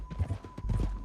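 Horse hooves clip-clop in Red Dead Redemption 2, a few soft, close thuds over a low rumbling game backdrop with a steady tonal hum, and no talking.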